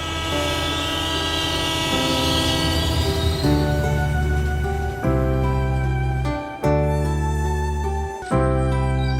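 A train arrives at a station in Bangladesh, its loud sustained horn blaring in long tonal blasts that drop in pitch, with rumbling rail noise beneath and short breaks between the blasts.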